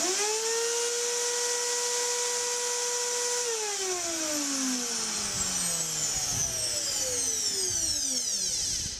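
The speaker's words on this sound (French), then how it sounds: "ça allume à la fois la défonceuse et l'aspirateur, regarde." A Parkside router and its dust extraction vacuum switch on together, a rising motor whine settling into a steady high-pitched drone with a broad hiss beneath, loud and close throughout.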